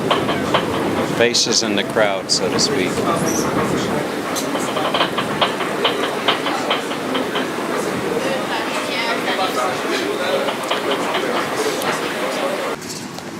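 Budapest metro train heard from inside or on the platform, a steady rumbling roar with rattling clicks running throughout, loud and continuous under nearby talk and crowd noise.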